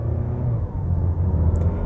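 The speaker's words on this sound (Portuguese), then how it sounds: "cada vez que o carro trocava de marcha é um uou, uou" Engine noise inside the cabin of a Mazda 6 sedan under partial throttle, a close, steady low rumble that dips briefly midway, as if through a gear change, then carries on.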